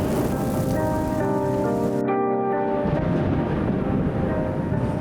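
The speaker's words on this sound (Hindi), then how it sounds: "मुझे बारिश पहले पसंद नहीं थी" Steady rain pours down in a dense, continuous hiss, with a low rumble like distant thunder and some tonal music layered over it for the first half.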